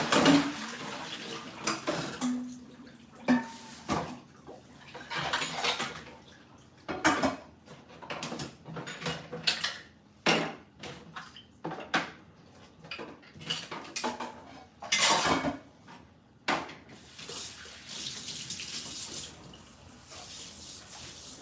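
Dishes and cutlery are washed under a running tap at a kitchen sink, with steady water flow and repeated clinks and clatters of pots, plates and utensils, fairly close and with no talking.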